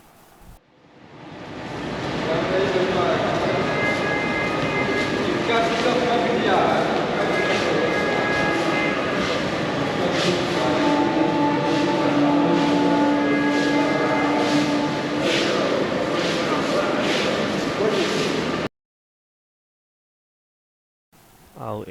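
The Dhauli Express pulls out of Cuttack station with a sustained rolling rumble that builds over the first couple of seconds and holds steady, with people's voices mixed in, before cutting off into silence near the end.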